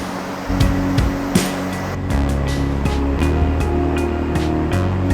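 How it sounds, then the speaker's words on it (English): The Brembo River flowing through San Pellegrino Terme in Italy, a loud, steady rushing of water close by, with a few sharp clicks and a low hum in the background. "This is the Brembo River."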